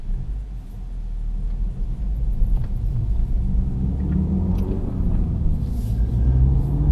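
A Mini Cooper S cruises along Bear Notch Road, heard from inside as a steady low engine and road rumble that swells gently, with no talk over it.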